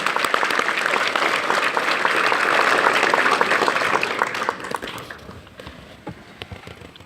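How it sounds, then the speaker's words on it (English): Round of applause from the audience at a Red Hat Open First symposium, full and steady clapping for several seconds that then tapers off into a few scattered, fading claps. "Round of applause for these guys."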